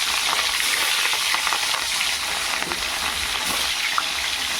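Fish pieces fry in hot oil in a pan, a loud, steady, close sizzle that never lets up, with occasional crackles and no voices.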